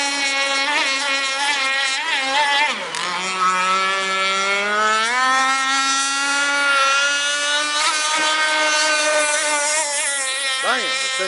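Silex Pro Quickdraw 26 speedboat engine at full throttle, a loud, steady, high-pitched whining drone that dips briefly and then climbs in pitch as the boat speeds up, continuous and close.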